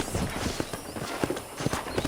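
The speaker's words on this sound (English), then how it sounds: "let's see if you can still ride a horse" Rhythmic hoof clip-clops of a horse at a steady walk in Red Dead Redemption on PS5, moderately close, with a faint ambient hum underneath.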